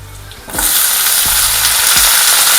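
Sliced brinjal drops into a hot pan of onions and curry leaves for a Karnataka-style biryani, bursting into a loud, steady sizzle with a few soft stirring thuds underneath.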